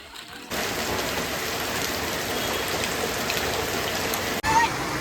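Monsoon rain pours steadily in Matheran, a dense, even hiss of drops hitting surfaces that starts abruptly and holds loud and constant, with a brief break near the end.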